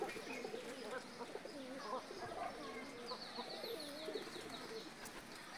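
Domestic pigeons cooing and clucking around their pigeon house, a steady mix of soft low coos and chatter from several birds, close and continuous with faint rustling.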